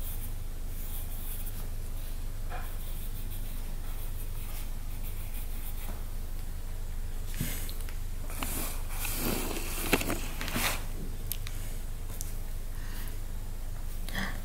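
A colouring pen scratching across paper at close range, soft and continuous with short rubbing strokes, quiet under a low steady background hum.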